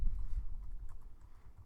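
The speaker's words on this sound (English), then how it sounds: "So let's just type in the numbers." Numbers typed on a computer keyboard, a quick soft run of muffled key taps, close and steady over a low background rumble.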